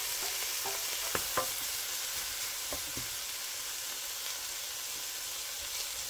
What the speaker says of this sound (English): Rub and push that garlic in while breaking the beef apart.